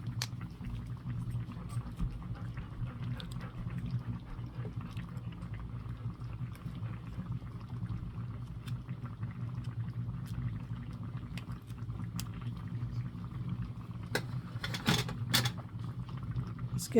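Water boils in a pot while a Spanish Armed Forces individual combat ration is prepared, a faint, steady low bubbling that runs throughout with scattered small clicks and pops near the end.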